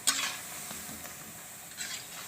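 Gulab jamun balls fry in hot oil with a continuous close sizzle, broken by light clinks and stirring of a utensil as the fried balls are moved into sugar syrup.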